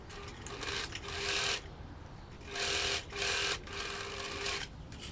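Sewing machine stitching a straight seam on pants fabric, running in several short whirring bursts with brief pauses between, close and steady, with no talking.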